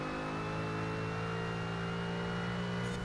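A Ford GT race car in the Forza Horizon video game accelerating, a steady, droning engine whine with a sustained tonal hum, fairly quiet and heard alone.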